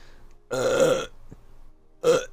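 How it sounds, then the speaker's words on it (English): Two close, loud burps: a long rumbling one lasting about half a second, then a brief pause and a second shorter burp, with near silence around them. "disappears like my burp just did"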